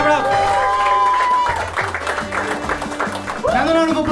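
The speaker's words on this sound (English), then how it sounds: "Come on, clap it up." A stand-up comedy crowd in Bengaluru claps and cheers for a comedian, the applause mixed under a loud voice and some music-like tones in the room.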